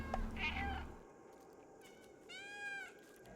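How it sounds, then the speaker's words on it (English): A cat meows in a video game each time a button is pressed, with two distinct synthetic meows separated by a short quiet gap. "Press B to meow."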